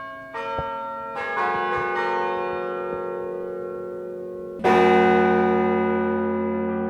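Carillon bells in the 80-meter KU Leuven Library tower ring out in a few spaced strikes, each chime lingering and overlapping, with a louder final stroke decaying slowly.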